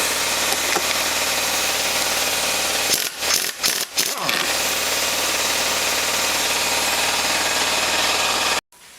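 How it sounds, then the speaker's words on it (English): An impact wrench on the crankshaft gear bolt of a Suzuki RM85 engine runs as a loud, sustained hammering rattle for most of the clip. It breaks off in a few short gaps near the middle and stops abruptly at the end. "we're going to hit it with the impact and see"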